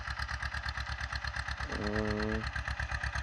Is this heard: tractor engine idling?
yes